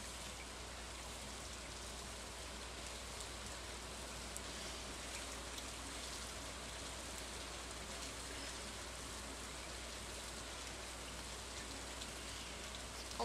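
Steady rain falls in the farming video game Stardew Valley, a faint, even hiss of countless drops that runs unbroken with no voices over it.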